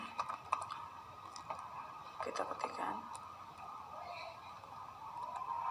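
Soft, quick keystrokes on a computer keyboard while code is entered, a light irregular patter of clicks running under a quiet voice speaking.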